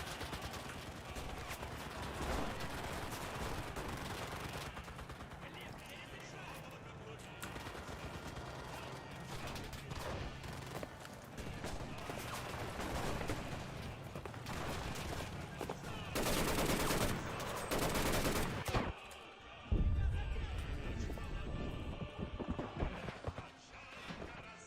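Rapid automatic fire from a DT machine gun in the Enlisted video game's Battle of Berlin, dense and continuous with sharp bursts over loud battle noise.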